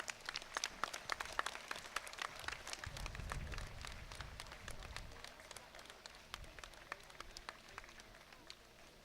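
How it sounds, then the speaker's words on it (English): Audience applause at an open-air auditorium during a college sports day, a steady wash of scattered claps at moderate distance with a low rumble partway through and no talk. "The atmosphere of the open air auditorium must be filled with your applause."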